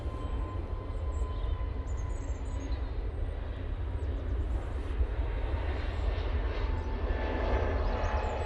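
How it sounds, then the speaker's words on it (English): An EasyJet airliner rolls down the runway for takeoff at Manchester Airport, a faint, steady distant jet roar with no voices. "EasyJet now on the roll."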